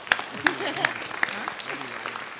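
A few people at an open house clap in slow, scattered claps while voices talk over them nearby.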